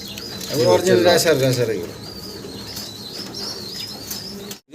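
Silver racer pigeons, a pair, cooing and fluttering their wings nearby, with a burst of busy bird sound early on that settles into softer calls under background chatter, then cuts out abruptly at the end.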